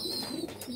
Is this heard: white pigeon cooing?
yes